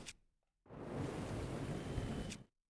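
Rain falling in Zelda Breath of the Wild, a dense steady broadband hiss that starts abruptly after a short quiet gap, stays loud for nearly two seconds, then cuts off.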